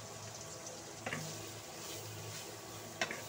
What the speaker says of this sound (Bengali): 4-5 মিনিট ভেজে নেব।